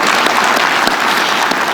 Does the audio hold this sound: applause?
yes